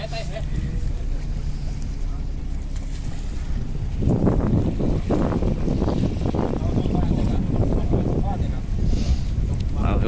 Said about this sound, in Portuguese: Vem o patrão na lancha ali, pessoal.